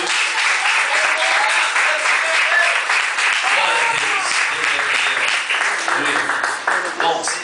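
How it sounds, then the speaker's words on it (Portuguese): Church congregation applauding during an evening worship service, a dense, steady wash of clapping filling the room with cheers and voices mixed in throughout. "Aplaude ao Senhor Jesus nesta noite."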